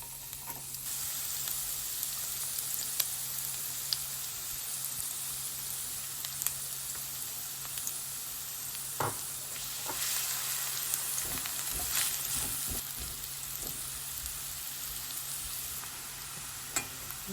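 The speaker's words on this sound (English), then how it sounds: "Then I'm going to add the onions and fry those up." Onions frying in oil in a pan for hot fried slaw, a steady close sizzle with faint crackles and occasional stirring scrapes, continuous throughout without talk.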